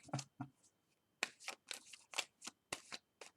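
Tarot cards being shuffled by hand in quick riffling bursts, about nine separate papery flutters with short pauses between them, close and fairly quiet with no talking.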